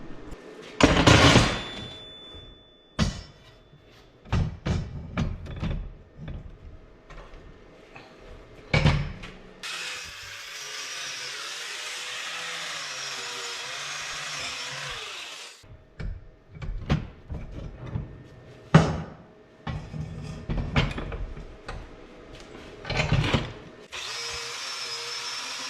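Fresh flux-core welds on a scrap metal rack get brushed off, with sharp clanks and knocks around a steady stretch of harsh brushing noise in the middle, fairly close and loud.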